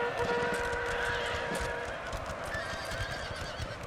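Cavalry horses in a Napoleonic Total War battle, several neighs and whinnies over a dense hoof-beat clatter and battle din, steady and moderately loud throughout.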